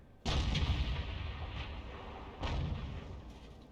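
Tank cannon firing in the video game World of Tanks: two heavy booming shots about two seconds apart, each with a sharp onset and a rumbling decay.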